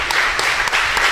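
A congregation at a Friday prayer meeting breaks into steady, dense applause that fills the whole short moment, with no voices standing out.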